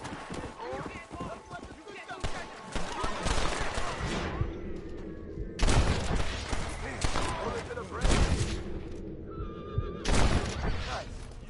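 Gunshots from the Western video game Red Dead Redemption, several sharp bursts spread across the clip amid horse whinnies and hoofbeats, with voices talking over the action.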